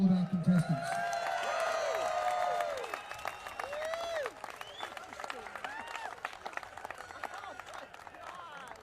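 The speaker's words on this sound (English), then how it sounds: "How about a round of applause for all of our contestants?" Audience applause and cheering for contestants at a live show, a loud crowd burst that fades over several seconds beneath ongoing voices and chatter.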